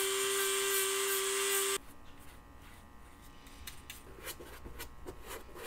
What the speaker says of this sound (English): I'm just going to go and soften up just a little bit with the rotary tool